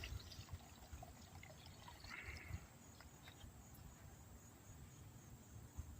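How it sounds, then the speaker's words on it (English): Old kerosene, about 24 years old, is poured into a glass dish, giving a soft, steady trickle of liquid that runs close by for the whole stretch under a faint background hiss. "I'm going to go ahead and pour some of the contents of this into our"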